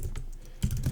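Typing on a computer keyboard at a desk while entering a command to start a Node server, a short run of close, crisp key clicks with a brief pause before a louder burst of keystrokes.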